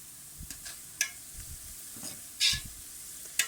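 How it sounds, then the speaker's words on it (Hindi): Onions frying and browning in a pot over a full flame, a quiet sizzle broken by several short, sharp bursts of stirring and spattering at irregular intervals, with no talking. "फ्लेम को हमने फुल किया हुआ है। प्याज हमारा तेज़ी से ब्राउन हो रहा है।"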